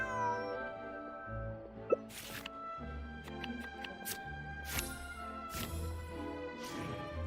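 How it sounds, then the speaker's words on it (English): A cat meows in the video game Genshin Impact, a faint cry heard amid soft game music and scattered effects, with no talking. "This is my friend's cat."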